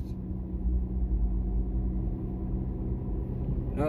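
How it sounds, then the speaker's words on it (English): Low rumbling engine of a city bus rolling along Broadway Street in north Minneapolis, a steady close drone that holds for several seconds amid street traffic. "Oh, city bus."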